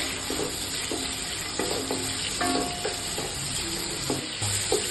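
Chopped tomatoes frying in a pan for a fish curry, with a continuous close sizzle and repeated scraping, clinking stirs of a spoon against the pan.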